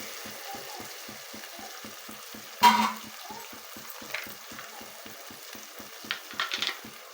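Cashews fry for a chicken curry under a soft, even sizzle with a quick regular ticking. A sharp scrape of stirring breaks in near the middle, and smaller clatters follow toward the end.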